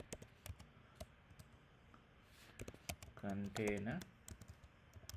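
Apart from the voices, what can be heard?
typing a gcloud command on a computer keyboard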